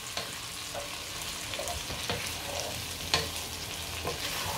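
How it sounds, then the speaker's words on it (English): Gizdodo, gizzard and plantain with thyme, curry and vegetable seasoning, stirred in a hot pan: a steady sizzle broken by several distinct scraping and tapping strokes of a utensil, close up and without talk. "And I'm going to stir it together."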